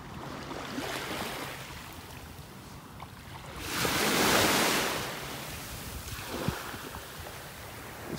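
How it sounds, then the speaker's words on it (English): Small waves wash up on a beach in North Naples, Florida, a continuous soft hiss of surf that swells into a louder rush midway before easing back. "There's some really little waves washing up on the shore here."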